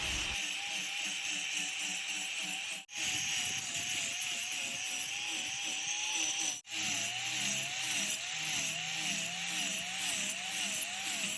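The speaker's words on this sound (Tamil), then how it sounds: "ஆங்கிள் கிரைண்டர் வச்சு இதை கொஞ்சம் கொஞ்சமாக வெட்டி எடுத்துக்கிறேன்" An angle grinder cuts out a marked section of a propeller for a homemade airboat, a loud, continuous whining drone with a wavering pitch, broken by two very short pauses.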